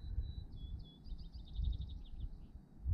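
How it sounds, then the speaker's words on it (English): An unidentified songbird perched atop a boom on a homestead, a thin high chirping trill that rises into a rapid sequence, faint and distant over low wind rumble, with no voices. "That bird we were talking about is up on top of Dinah's boom over there singing."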